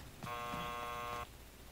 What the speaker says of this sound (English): What was that beeping sound?